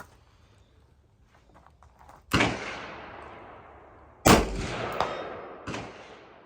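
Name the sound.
gunshot report from a 20-inch rifle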